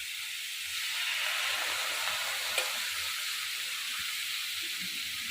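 A paste of ground cumin, green chili and poppy seeds fries in a pan while being stirred, a steady bright sizzle and hiss with soft scraping, close and continuous, with one small click near the middle.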